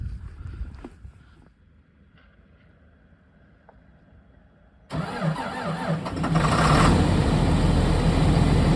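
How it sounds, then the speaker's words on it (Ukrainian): A tractor engine cranks and catches on a freezing night, then rumbles loudly and steadily at close range after a quieter stretch of faint background noise. "Так, один трактор завели."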